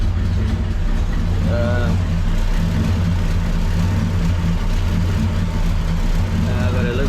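A V8 engine idles roughly in a 1970 Cougar XR7 with a clutch fault, a loud close low rumble with an uneven loping pulse throughout.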